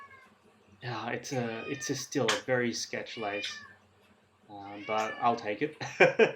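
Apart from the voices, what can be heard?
hungry pet cat meowing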